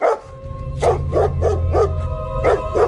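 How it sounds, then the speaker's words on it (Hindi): A dog barks loudly in a run of about seven sharp, evenly spaced barks, close by, over a low steady drone. "वो जोर जोर से भौंकने लगा।"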